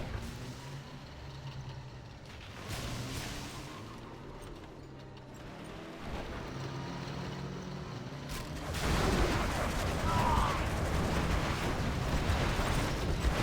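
Homing buggy missiles launch and explode in a real-time strategy video game battle, with scattered bursts of blasts and rumbling impacts that build to a dense, louder barrage toward the end, with no talking.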